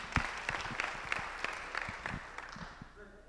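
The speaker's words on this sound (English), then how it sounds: "Round of applause for Greg, please." A modest round of audience applause at a real estate investors' meeting, scattered claps fairly close and thinning toward the end, with voices murmuring underneath.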